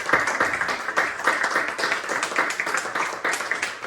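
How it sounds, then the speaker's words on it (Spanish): Church congregation applauding together, a dense steady wash of many hands clapping throughout, fairly close and lively, with no talk over it. "Vamos a darle un aplauso nuevamente al Señor."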